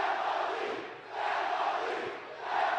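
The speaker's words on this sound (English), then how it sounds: "Listen to this crowd." Wrestling arena crowd at a JCW live event in Farmington, New Mexico, roaring and chanting in swelling waves that rise and fall about every second and a half, loud and dense with no single voice standing out.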